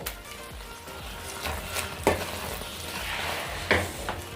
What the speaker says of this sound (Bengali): দিয়ে দেব 1 চামচ গরম মশলা গুঁড়ো, ভালো করে নেড়ে চেড়ে মিশিয়ে নেব।